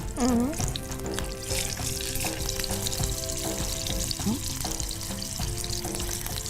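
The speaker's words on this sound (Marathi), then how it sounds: "अख्खी मिरची जी मधून फक्त मी कापलेली आहे ती आपल्याला फोडणीला घालायची आहे" Whole green chillies slit down the middle frying in hot tempering oil, a continuous close crackling sizzle with a few clinks of a utensil, no speech.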